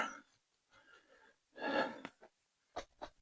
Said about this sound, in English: Sorry about the sniffling,